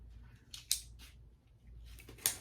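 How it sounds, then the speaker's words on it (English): Cutting through building material for a 12-inch scale Star Wars cantina exterior model, heard as two sharp, close snips or cuts about a second and a half apart over a low steady hum. "I'm going to cut all the way down"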